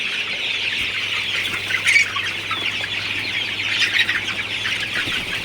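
A shed full of 39-day-old Sonali super hybrid chickens gives off a dense, continuous chorus of chirps and clucks, spread out and steady, over the low constant hum of running fans.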